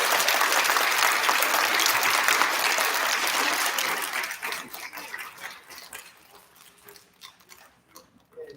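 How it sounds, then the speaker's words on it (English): An elementary school audience claps for STEM award recipients, dense applause for about four seconds that then thins into scattered claps and fades away. "Can we have a big round of applause for our STEM recipients?"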